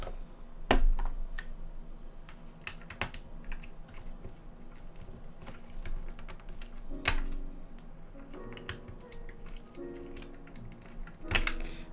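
Typing on a Noxary 268 keyboard fitted with Novel Keys Cream switches, close irregular key clacks with occasional louder bottom-out hits and spacebar thocks, steady and alone without speech.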